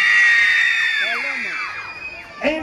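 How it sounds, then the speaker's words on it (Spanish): Girls in a crowd at a live music show scream together on cue, a loud high sustained shriek that slowly trails off, with a brief burst of further shouting at the end. "El grito de las chicas"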